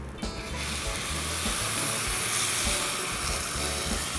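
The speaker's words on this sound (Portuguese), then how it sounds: "Eu coloco a água que já está fervendo," Boiling water poured into a cooking pot of rice with hot oil and seasoning, giving a steady loud sizzling hiss that fills the whole stretch after a brief quieter start.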